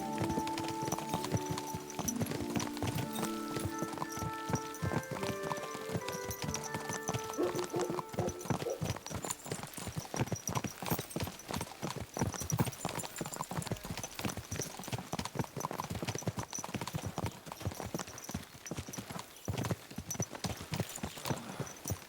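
A horse's hooves clip-clop in a steady walking rhythm in the video game Kingdom Come: Deliverance 2, fairly close, with harness jingles and a musical tone fading in the opening seconds.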